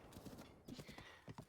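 Quiet, rhythmic hoofbeats of a galloping horse in the video game Breath of the Wild thud in quick succession, with a faint whinny-like sound.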